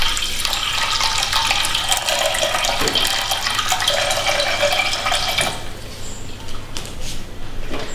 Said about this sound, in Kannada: ಅದಕ್ಕಾಗಿ ನೀರು ಹಾಕಿ ನೆನೆಸಿಡ್ತೀನಿ.